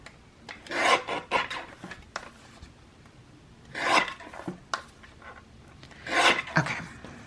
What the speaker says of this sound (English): So we're going to go ahead and trim that border off.